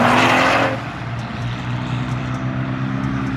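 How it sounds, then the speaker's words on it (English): A moped revving hard on a sunny downtown street on a busy Friday night, a loud burst of engine noise at first that drops away into a lower rumble of passing traffic. "We got a dude ripping a moped"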